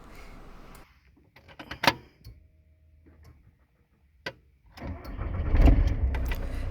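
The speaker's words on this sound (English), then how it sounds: "And now it's time to start the car." A used car's engine is started in a quiet setting: a few sharp clicks and ticks come first, then the engine catches and settles into a steady, fairly loud running rumble.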